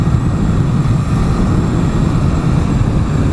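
Honda CB1000R motorcycle ridden on the road, its engine note a steady, loud, low rumble mixed with wind roar, continuous throughout with no voices.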